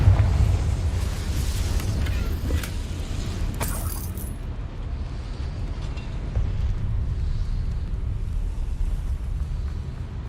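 Confringo fire spell from Hogwarts Legacy bursting into a loud explosion, a sharp crackling blast in the first four seconds that fades into a long low rumbling roar.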